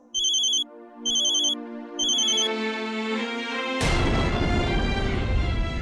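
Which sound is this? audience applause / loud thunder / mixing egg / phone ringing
phone ringing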